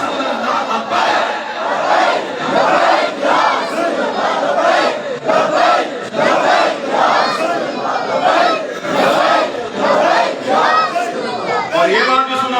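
A large crowd at a gathering of devotees chants the religious slogan Labbaik ya Rasool Allah in loud, rhythmic unison, the call-and-response phrases repeating in strong pulses of massed voices.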